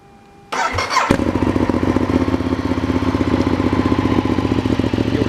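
A motorcycle fitted with an aftermarket SC Project exhaust cranks briefly then fires up loudly, settling into a throaty, rapid, pulsing idle from the loud exhaust close by.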